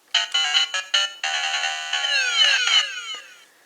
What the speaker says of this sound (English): So that's the game over sound.